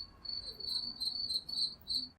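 Crickets chirp steadily in a quiet setting, a thin, high, pulsing trill repeating in rhythmic bursts, with no voices.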